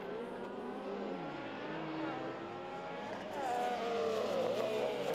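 Rallycross cars race wheel to wheel at Mettet as one overtakes another, with a continuous loud engine roar, rising and falling revs, and a swelling pass near the end.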